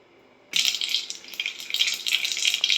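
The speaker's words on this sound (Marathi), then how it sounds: "मोहरी छान तडतडली आहे." After a quiet start, mustard seeds in hot oil in a pressure cooker on a gas stove suddenly burst into a dense, continuous crackling and spitting that stays loud and close.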